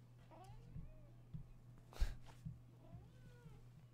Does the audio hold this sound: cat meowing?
yes